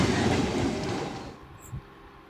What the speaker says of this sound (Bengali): ছুটে আসছে Tarakeswar two Howrah local train